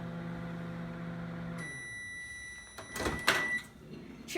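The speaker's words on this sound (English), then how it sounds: "I think we all know the first thing that comes to mind when I say the word microwave." A microwave oven hums steadily, then gives a few sharp electronic beeps mixed with clunks and rattles, like the door being opened, close and clear with no talking.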